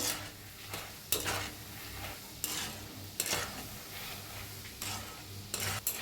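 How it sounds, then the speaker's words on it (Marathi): Peanuts frying in oil in a kadhai for crispy poha chivda, a soft continuous sizzle broken by sharp metallic scrapes and clinks of a spoon stirring, no talking. "दाळगा बी असं छान तळून घेऊया"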